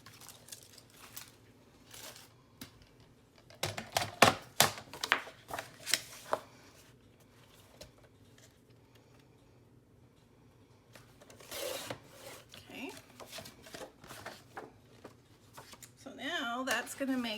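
Scissors trimming the edge of a paper file folder, heard as a run of close, crisp cutting snips and rustling paper, with quieter handling noises before and after.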